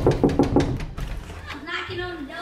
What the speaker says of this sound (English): I'm knocking on the door and opening it.